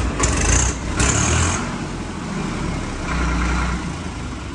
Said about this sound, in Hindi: इसको भाई एक बार ऑन स्टार्ट करके दिखाना ट्रैक्टर की आवाज़ कैसी है